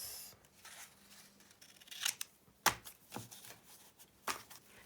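Scissors snipping through paper while a planner is prepped, with several sharp close cuts and soft rustles spread unevenly in a quiet room.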